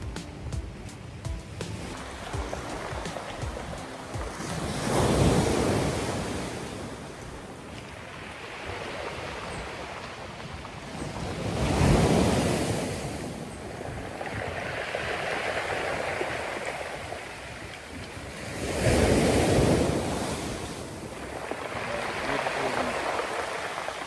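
Surf rolls onto a black sand beach in Portland, Jamaica, with waves swelling and breaking in slow surges about every seven seconds under a steady wash of water.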